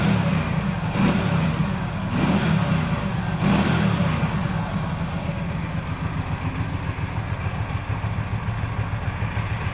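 A Keeway Benda V252C motorcycle engine runs steadily nearby with a low, throbbing rumble, swelling in a few blips of throttle early on before settling into an even idle.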